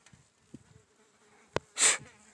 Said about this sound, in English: stupid flies have been buzzing around me all day